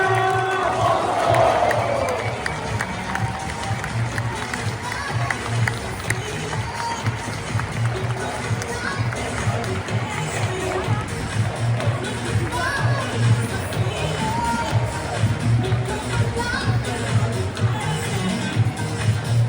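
Large stadium crowd in a football ground cheering and applauding a Lorient player after a Ligue 2 title-winning match, a continuous loud roar with shouts running through the whole stretch, a low steady hum beneath it.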